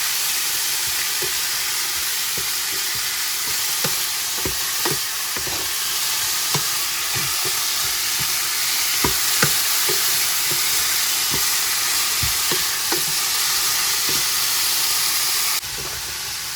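Liver simmering in a pan with turmeric and salt, a steady bubbling hiss with scattered soft pops and crackles running throughout, close and moderately loud, no voices.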